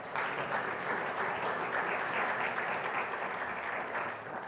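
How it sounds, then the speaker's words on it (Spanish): A church congregation applauds, with dense, even clapping from many hands that holds steady for several seconds, fairly close and without talking over it. "Denle un aplauso al Señor"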